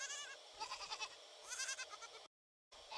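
Goats bleat repeatedly at a livestock market in Vadakara, Kerala, while being loaded onto a lorry for mutton stalls: overlapping wavering cries, moderately near, broken by a brief silence near the end.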